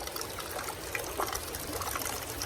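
Water from an iron-rich mineral spring runs out of a spout in a soft, continuous trickle, faint and steady, with no voices.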